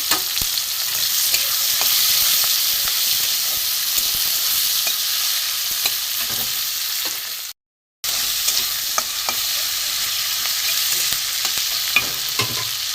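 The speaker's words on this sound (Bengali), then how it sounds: "এতে রসুন কুচি পেঁয়াজ কুচি টমাটম কুচি দিয়ে দিলাম এটা ভালো করে নাড়ব" Chopped garlic, onion and tomato fry and get stirred in mustard oil, giving a loud continuous sizzle with repeated scraping strokes, broken by a brief total silence near the middle.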